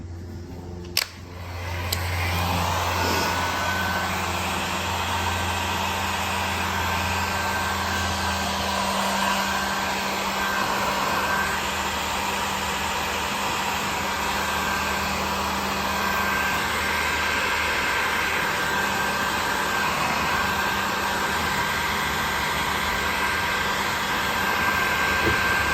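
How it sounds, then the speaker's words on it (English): A heat gun runs continuously while warming a large car emblem, a steady close whooshing blower drone that starts with a click and holds even throughout, with no talking. "We're gonna turn it on. We're just gonna gently heat up the emblem."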